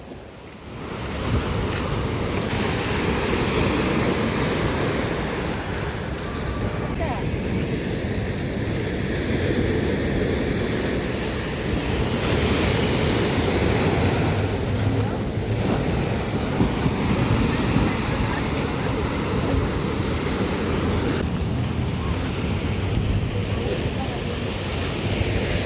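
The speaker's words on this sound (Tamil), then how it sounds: "அலையை பாருங்களேன் எப்படி இருக்குன்ட்டு." Ocean waves wash onto the Sri Lanka shore in a continuous surging roar, with gusty wind buffeting the microphone and a few louder swells; no clear speech stands out.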